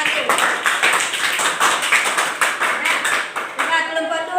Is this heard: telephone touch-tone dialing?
no